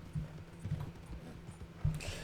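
Horse hooves clip-clop on the ground in the Red Dead Redemption 2 video game, a few soft, fairly faint thuds spaced unevenly over quiet background ambience with no talking.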